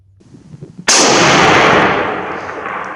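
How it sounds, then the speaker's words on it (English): A single loud, sharp rifle report from a Swedish M41b fired at 600 on a shooting range, the crack followed by a long decaying rumble of echo, preceded by faint low background noise. "Let's shoot a 3-round group at 600 and see how she's doing."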